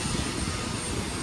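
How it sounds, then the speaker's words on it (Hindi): A drone flies over a large open training ground in Karjat during drone certification, giving a steady, continuous buzzing whir that holds at an even loudness throughout. "देखो ड्रोन वहाँ पे उड़ रहा है"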